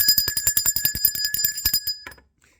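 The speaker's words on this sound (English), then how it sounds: "Let's ring the bell for Neith." A bell rings about twenty times in fast, steady succession, bright and close, then stops and leaves near silence.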